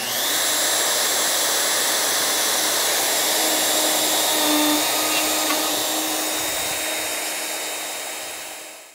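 A plunge router cuts a dado in wood for a blanket chest, guided by a dual edge guide, producing a loud, steady, close high-pitched roar that holds for nearly nine seconds and tapers slightly at the end.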